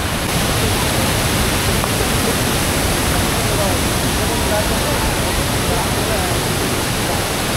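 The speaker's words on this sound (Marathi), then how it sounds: "इथे खाली धबधबा आहे" Bhivpuri waterfall near Mumbai pours down from the hills with a loud, constant rushing roar that fills the whole stretch without letting up.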